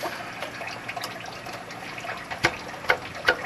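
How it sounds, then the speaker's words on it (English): Fluid trickles and drains from the retarder valve on a Kenworth truck, a steady low wash of liquid with a few sharper splashes near the end. "now you gotta drain the retarder valve and stuff"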